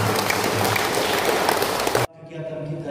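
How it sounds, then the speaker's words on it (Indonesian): Applause from an audience in a convent hall at the opening of a Bible animation event: loud, dense clapping that runs steadily for about two seconds, then cuts off abruptly, leaving a quieter room with faint murmuring. "Kita tepuk tangan kepada"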